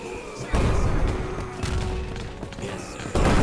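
Simulated cannon fire in a toy American Revolution battle, heavy booming blasts that hit sharply at the start and again near the end over a continuous rumbling roar.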